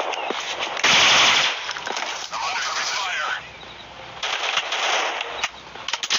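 Automatic gunfire from a commando shooter video game, with a loud dense burst near the start, a sustained crackling stretch, and scattered sharp shots at the end.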